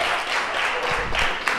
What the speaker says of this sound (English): Let's hear it. By applause, yeah.